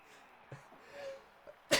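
A single abrupt sneeze bursts out near the end, loud and close, after a stretch of faint background sound with a few soft thumps.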